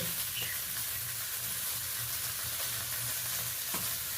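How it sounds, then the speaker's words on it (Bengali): Pointed gourd (potol) fries in hot oil in a pan, a soft steady sizzle with occasional faint stirring clicks, fairly quiet and continuous throughout. "পটলটা ভেজে নেব ভালো করে লালচে করে।"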